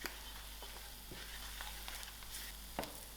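Masala being stirred in a pot, a soft sizzling fry with scraping strokes of a spoon, steady and close, no one speaking.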